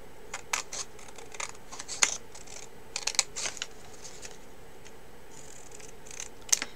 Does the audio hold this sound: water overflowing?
no